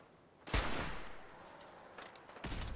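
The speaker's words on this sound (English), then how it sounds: "Those are missiles." Missiles fired in Fallout 4, with a sudden loud blast followed by a decaying rumble, then two more quicker bursts of launch noise, moderately loud with no talk.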